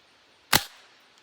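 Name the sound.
Crosman 1377 air pistol shot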